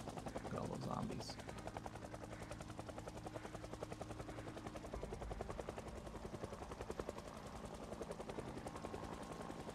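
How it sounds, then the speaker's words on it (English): Helicopter hovering in a zombie survival video game, a steady rotor chop with dense repeating pulses running throughout at constant loudness, mixed with game noise and a burst of louder sound near the start. "that helicopter is there."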